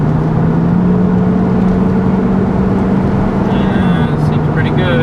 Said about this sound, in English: We're back out on the freeway.